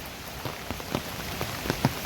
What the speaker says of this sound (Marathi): मुसळधार पाऊस तो बघा आला. आत्ता पण पाऊस आलाय बघा.